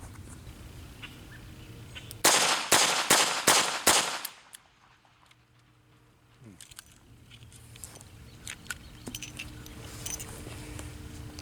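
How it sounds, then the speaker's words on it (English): A pistol is fired five times in rapid succession from the draw at a 12-foot target on an outdoor dirt range, loud sharp cracks in quick rhythm, followed by quiet ambience. "5 shots at 12 feet, rapid fire. And it's going to be from the draw."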